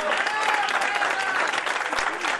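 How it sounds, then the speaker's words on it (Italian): A crowd gives a burst of applause at an outdoor summer tour event, loud and steady clapping sustained throughout without a break. "Facciamogli un applauso."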